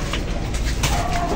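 A pet pigeon coos close to the microphone, a short soft throaty call over steady background hiss.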